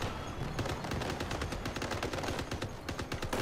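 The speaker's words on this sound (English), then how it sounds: "Shotgun, I think I hear a shotgun" Dense, rapid gunfire in the vehicle combat game Crossout, a loud, continuous barrage of overlapping shotgun and automatic shots with no break.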